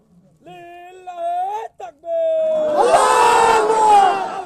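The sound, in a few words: crowd shouting takbir at Islamic sermon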